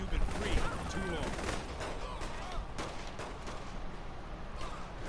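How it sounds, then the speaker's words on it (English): Police gunfire in Saints Row 3 Remastered, a dense stretch of sharp repeated shots mixed with game noise, steady and loud for the whole span, with faint voice-like sounds. "Police shooting at him and everything, man."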